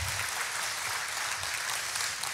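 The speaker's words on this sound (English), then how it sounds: "Will y'all join me with an applause" A church congregation applauds during a worship service, steady dense clapping from many hands filling the room, loud and even throughout.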